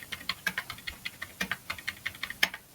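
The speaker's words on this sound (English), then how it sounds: "So let's go and just type some random values." Quick, irregular clicking of keys on a computer keyboard as values are entered, close and fairly quiet, with no talking.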